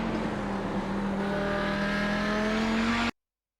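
An Audi 90 GTO race car engine pulls hard through a gear on a lap of Spa, its loud, steady tone climbing in pitch for about three seconds before cutting off abruptly.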